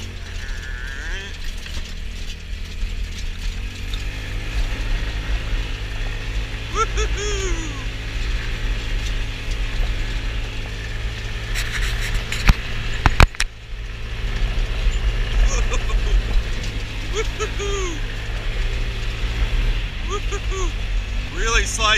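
A Trailmaster 150 XRX adult go-kart drives on gravel, its engine droning steadily with rattling mechanical clatter and crunching, loud and close, while a voice breaks in briefly.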